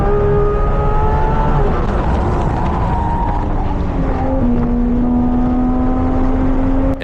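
A Porsche GT3 RS drives hard on a race track. Its engine note is loud and close, rising and falling in pitch as it accelerates and shifts, with a short stretch of tire noise.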